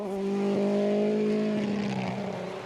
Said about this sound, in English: That is still a very sick-sounding Mini.